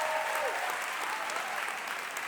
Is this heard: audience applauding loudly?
yes